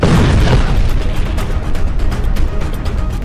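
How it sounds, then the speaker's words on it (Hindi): An Israeli bomb exploding in Gaza, heard as a dense, rumbling boom that fills the whole span with heavy low-end roar and scattered crackling bursts, loud and continuous with no voices. "इजरायल का बम गाजा में फटता है"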